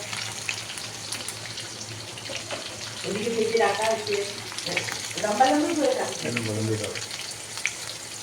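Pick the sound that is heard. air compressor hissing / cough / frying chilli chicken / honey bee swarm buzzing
frying chilli chicken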